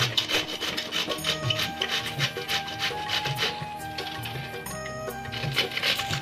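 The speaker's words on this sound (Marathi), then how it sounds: "वडा बनवण्यासाठी आपल्याला बारीक पत्ता गोबी किसून घ्यायचा आहे." Cabbage being finely grated by hand on a kitchen grater for fritters, a steady repeated rasping scrape in quick strokes, close and fairly loud with no talking.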